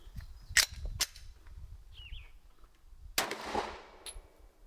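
A firearm fitted with a ported barrel fires two sharp shots in quick succession, followed after a pause by a third loud report with a decaying tail.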